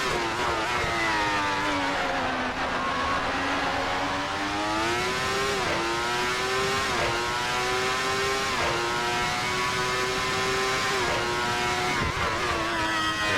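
Sustained V12 engine note of an ASR 412 T2 race car in a racing video game, loud and continuous, revving with rising pitch sweeps and brief dips at gear changes.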